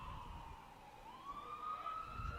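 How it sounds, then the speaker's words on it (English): An ambulance siren wails continuously from nearby, its pitch sliding down and then rising again as it passes. Traffic rumble sits underneath, heard from a Legion baseball game in progress. "Sounds awful close wherever that siren's going."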